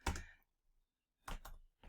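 Two bursts of rapid clicking keystrokes on a computer keyboard while code is typed, close and crisp, with a quiet pause between the flurries.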